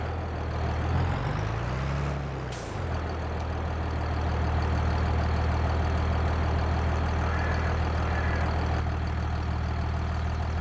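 A tractor engine in Farming Simulator 22 runs steadily at a low idle-like drone, joined by a brief pitch sweep and a short hiss, with no talking.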